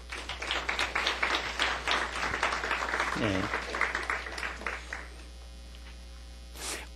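A church congregation gives an encouraging round of applause for a new worship team, with a steady mains hum underneath and a brief spoken word.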